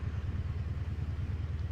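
Modded truck engine in a trucking video game hauling huge logs on a double trailer, giving a steady low rumbling drone with a pulsing throb, continuous and fairly close, with no talk.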